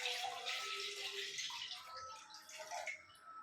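Water is poured from glasses into a pan on the stove, a close, splashing, gurgling stream that fades gradually, with no voices over it.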